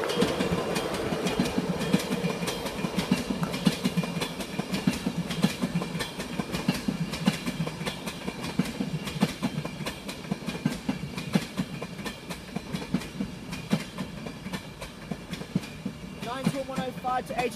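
A Virgin Trains East Coast express, class 91 locomotive 91105 with driving van 82230, rolls into platform 4 at Peterborough with steady rumble and rhythmic wheel clatter, loud and close throughout, easing at the end.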